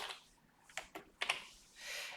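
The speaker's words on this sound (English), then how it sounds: "I'm just going to type title." Short bursts of keystrokes on a computer keyboard as a title is typed into a Power BI report. Crisp, close clicks come in small uneven clusters with brief pauses between them.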